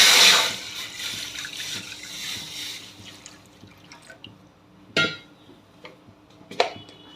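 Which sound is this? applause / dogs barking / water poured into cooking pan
water poured into cooking pan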